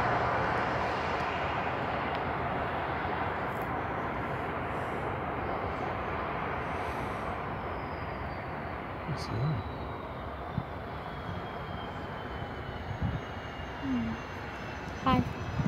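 An airplane coming in to land at Biggin Hill Airport, a broad engine roar that is loud at first and slowly fades, with brief voices nearby.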